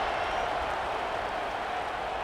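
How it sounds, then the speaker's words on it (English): Stadium crowd in College Football 26 buzzing after a touchdown in a Middle Tennessee versus Wisconsin game, a dense, steady roar of cheering and scattered clapping that stays even and unbroken. "this crowd is buzzing after that last score"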